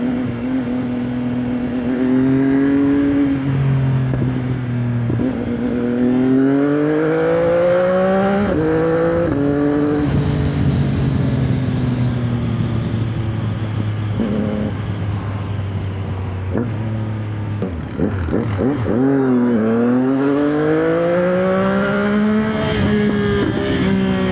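A CF Moto 675NK motorcycle with a new muffler revs steadily up and down, its engine note rising and falling in repeated sweeps, loud and close throughout with no talking.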